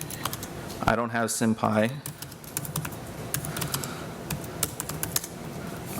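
Computer keyboard keys tapped while entering Python commands in a terminal during a Conda package manager demo, a scattered run of light clicks after someone speaks briefly.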